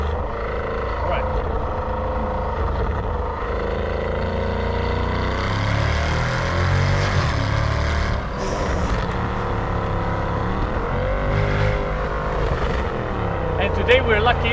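A Mercedes-Benz CL63 AMG being driven hard gives a loud, continuous engine roar that rises and falls in pitch as it accelerates and shifts, close and dominant from start to finish.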